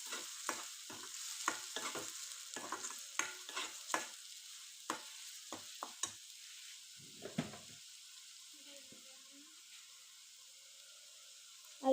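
Blended onion paste with green chilli sizzles and fries in a pan while being stirred, giving a steady frying hiss broken by repeated close scraping stir strokes that fade out toward the end; no speech.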